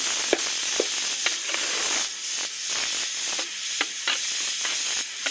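Potatoes fry in a pan with a constant loud, close sizzling hiss, broken by occasional soft clicks and scrapes of stirring.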